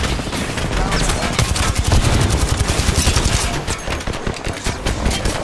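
Rapid bursts of automatic gunfire crackle loudly and continuously in a shooting video game, dense overlapping shots with players shouting excitedly over them.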